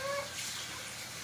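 Tap water running, a steady close hiss with a brief tonal squeal at the start, no voices.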